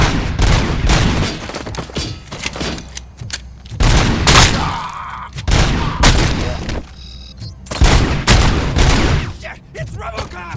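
Gunfire in the RoboCop: Rogue City video game, loud repeated bursts of shots and booming impacts that come in clusters, close and intense, with shouted enemy voices between volleys.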